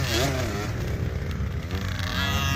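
A motocross dirt bike engine at a practice track, buzzing loudly and continuously with rising and falling revs, close by, with voices talking over it.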